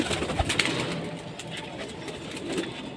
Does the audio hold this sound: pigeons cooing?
yes